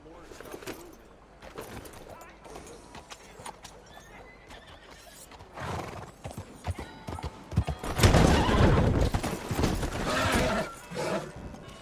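A horse in the video game Red Dead Redemption 2 clip-clops and whinnies loudly, with hooves clattering throughout and a strong neigh near the end, while a voice talks over the game sound.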